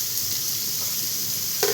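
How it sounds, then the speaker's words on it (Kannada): Potatoes and tomato stirred together in a hot pan give a loud, continuous frying sizzle with one sharp scrape of a utensil near the end. "ಮತ್ತೆ ಟೊಮೆಟೊ ಬೆರೆಸುತ್ತಿದ್ದೇನೆ"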